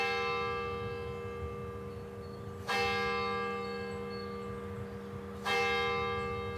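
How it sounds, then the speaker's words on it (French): A church bell on a pilgrims' route rings two single, resonant strikes spaced several seconds apart, each tone lingering and slowly fading, heard alone at moderate volume. "Le son de la cloche"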